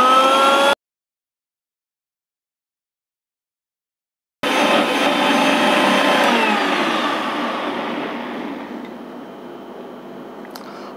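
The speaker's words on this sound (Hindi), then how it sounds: "अब जार को हम क्लोज करेंगे और इसको लो स्पीड पे हमें ब्लेंड करना है" A blender on low speed whirs through a guava smoothie with milk and ice cubes, loud and steady after a few seconds of silence, then softening slightly toward the end.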